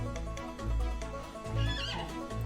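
A lassoed mustang in the Western video game Outlaws of the Old West whinnies twice, loud and close, with brief higher squeals over a low rumbling backdrop and light hoofbeats.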